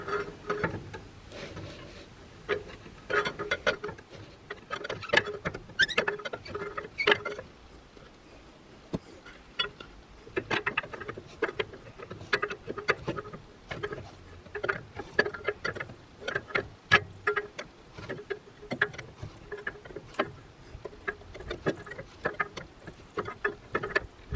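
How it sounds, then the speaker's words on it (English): An abandoned Case David Brown 1394 tractor engine with a bad piston is cranked over by hand, giving a steady train of rhythmic mechanical clicks and knocks close up, continuing throughout with no talk. "Let's wind up the bad piston and see just how bad it is."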